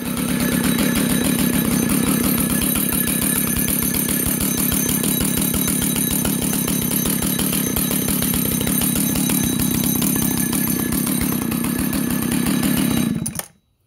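A vintage Husqvarna 2100 CD 99cc chainsaw runs steadily at a fast, buzzing idle, loud and close, with a rapid pulsing rhythm that holds for the whole stretch before cutting off abruptly at the end.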